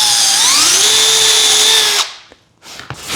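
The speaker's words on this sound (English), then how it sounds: "Then I'll drill a hole where that goes." A power drill drilling a hole for an undermount shelf rollout whines up to speed and runs for about two seconds, then stops, followed by a few faint clicks and a brief burst of whirring.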